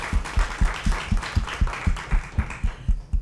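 Audience at a media panel discussion applauds with steady, evenly spaced claps in a regular rhythm, fairly faint and somewhat distant, with no talk over it.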